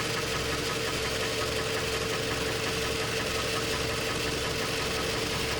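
A 2007-2010 Toyota Camry engine idles steadily, close up, with a constant low hum and even vibration over several seconds and no voices.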